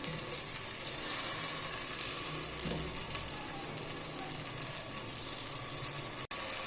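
Tomatoes and green chillies frying in a pan for a bhindi gosht masala gravy, giving a steady, close, moderate sizzle with no talking and a single sharp click near the end.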